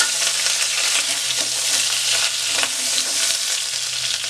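Green chillies fry in hot oil with cumin seeds on a low flame, a steady loud sizzle with occasional scraping as they are stirred, no voices.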